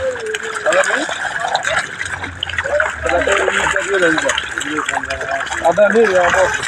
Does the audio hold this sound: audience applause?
no